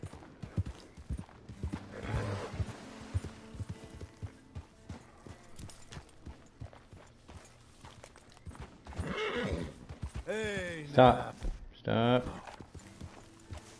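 In Red Dead Redemption 2, horse hooves clop in a steady walking rhythm, then a spooked horse neighs loudly twice near the end, with a brief spoken word among them.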